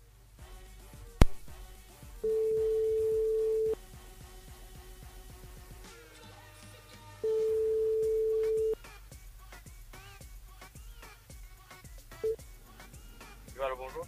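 Two long steady tones from a phone line ringing out to a caller named Sébastien in Saint-Paul during a live radio call-in show, each ring about a second and a half, with studio background and a click before the first.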